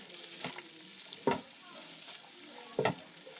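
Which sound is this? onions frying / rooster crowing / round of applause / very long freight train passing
onions frying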